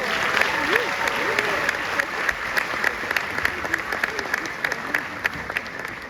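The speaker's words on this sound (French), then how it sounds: "Applaudissez-le." People at an African business fair in Paris applaud a guest, lively sharp claps sounding close and continuous for several seconds, with a voice talking underneath.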